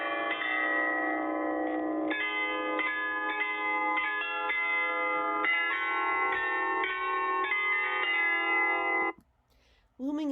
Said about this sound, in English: The tower's 35 bells chime 3 times a day.